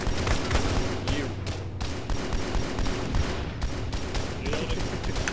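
Sustained gunfire in the Arma 3 OPTRE mod, a dense fusillade of rapid shots and bursts running throughout at steady loudness, with faint voices underneath.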